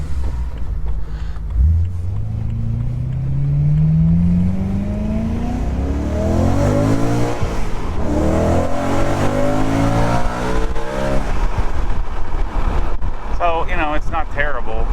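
A BMW E92 M3 fitted with an Akrapovic Evolution exhaust accelerates hard, its engine note climbing steadily through the revs, dipping at a gear change, then rising again, with wind rush around it.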